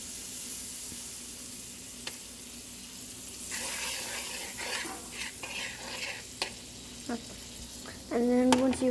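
Bread sizzling in butter in a pan, a steady soft frying hiss with occasional scrapes and clinks of a fork, rising to a louder sizzle near the end.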